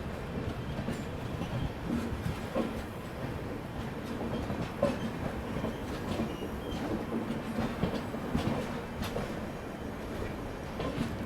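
A train rolls into Vadodara Junction, passing the Mumbai Central–Jaipur Gangaur Express. Continuous rumble comes with irregular wheel clatter and rail knocks.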